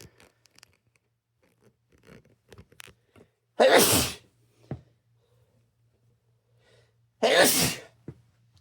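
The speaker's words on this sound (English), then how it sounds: "I'm probably going to sneeze at some point." Two loud, sharp sneezes a few seconds apart, close to the listener, with faint rustling and small handling noises in between.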